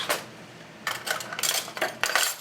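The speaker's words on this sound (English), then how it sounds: "I'm going to add my drained potatoes in here now." Drained potatoes tumble into a pot for potato and bacon soup, giving a few quick clattering knocks and scrapes against the metal, close and fairly soft, with no voices.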